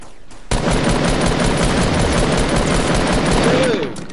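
Rapid bursts of video-game gunfire from a Fortnite match crackle loud and dense almost without pause for about three and a half seconds after a brief quiet start, with a faint voice underneath.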